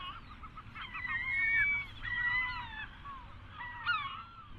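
Several loud, wailing seagull calls ring out near and clear over a low, steady background rumble, coming in two main bursts with a shorter cry near the end.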